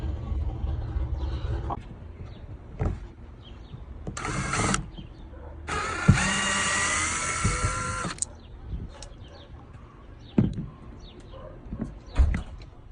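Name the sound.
power drill removing screws from Kia Telluride reverse light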